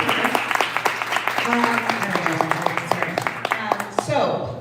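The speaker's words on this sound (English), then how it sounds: "Let's give her a round of applause." An audience at a 1 Million Cups Detroit Metro entrepreneur event gives a round of applause, moderate clapping that carries on under talking before it dies away near the end.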